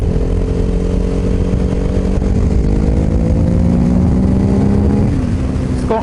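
A KTM 950 Supermoto V-twin motorcycle pulls hard under acceleration, its loud, close engine note rising steadily in pitch for several seconds before easing off near the end.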